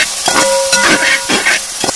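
Dried small hot red chilies dropped into a hot pan while cooking a beef dish, bursting into loud, close sizzling and crackling that flares in short rushes.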